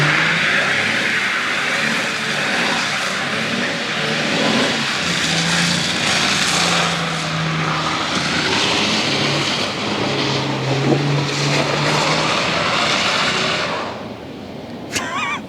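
A Holden VY Commodore Clubsport R8 with a V8 engine doing a one-wheel burnout, a loud sustained roar of engine and spinning tyre filling the whole clip, easing slightly near the end.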